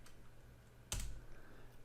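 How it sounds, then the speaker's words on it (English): Computer keystrokes on a keyboard, with a single loud, close key press standing out against a quiet background and no voices. "To do so, type // followed by the script name."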